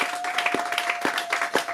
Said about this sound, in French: Donnons des acclamations au Seigneur.